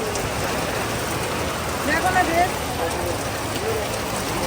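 Steady rain falls and patters on surfaces in a street near a shop, a constant wash of noise with faint voices underneath.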